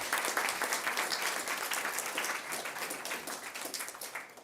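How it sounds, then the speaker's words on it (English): Steady applause from a seated crowd at a school board meeting, moderately distant, with the claps blending into a continuous patter that slowly tapers off. "we're going to give you a round of applause."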